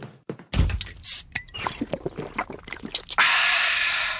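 A Coke bottle cracks open with a thunk, followed by fizzy pouring and bubbling, ending in a steady hiss of carbonation.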